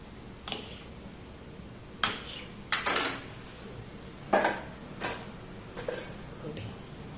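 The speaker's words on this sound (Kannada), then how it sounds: "ಇವಾಗ ಇಲ್ಲಿ ಹಿಟ್ಟನ್ನು ಕಟ್ ಮಾಡಿಕೊಳ್ಳುವ." Wheat flour dough being cut on a board, heard as a series of sharp separate knocks and clicks that come at an uneven pace and sound fairly close, with no talking.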